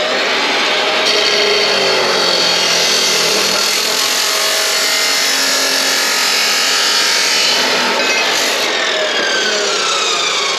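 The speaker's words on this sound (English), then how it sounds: "This is my new tool, it's a chop saw." A chop saw cuts through a 2-inch steel exhaust pipe during work on a rotting exhaust: a loud, steady, harsh abrasive grinding roar that holds for about ten seconds with no talk over it.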